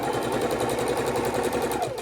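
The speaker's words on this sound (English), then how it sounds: "Now on this Singer Heavy Duty sewing machine, it does have a lot of different stitches it can use" A Singer Heavy Duty sewing machine runs steadily while stitching quarter-inch quilt seams, a loud, close, rapid mechanical whirr and needle chatter with no pauses.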